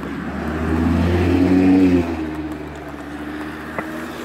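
A car passes close by at a pedestrian crossing on the Malzéville plateau, its engine swelling to a loud peak and then fading as it moves away, with no talking.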